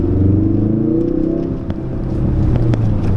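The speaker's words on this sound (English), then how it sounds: "We're gonna do a little 2nd gear pull." A 2017 Ford Focus RS pulls hard in second gear, its engine note a loud, steady growl that climbs as the hatchback accelerates, close and continuous with no talk.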